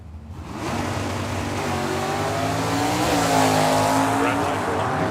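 Drag-racing cars, a Chevrolet Camaro and a 1972 Ford Mach 1, launch down the strip at a Super Pro event, loud engines roaring and climbing through the revs with a trackside announcer talking over them.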